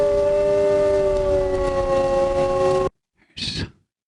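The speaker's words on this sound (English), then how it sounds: "now here again is the wolf." A recorded wolf howl plays as a loud, sustained, smooth harmonic tone for nearly three seconds, then stops abruptly. A short, bright burst of sound follows.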